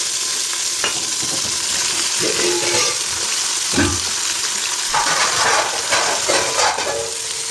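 Carrots and mixed vegetables frying and being stirred in a pan, a steady close sizzle with scraping stir strokes and occasional clatters throughout.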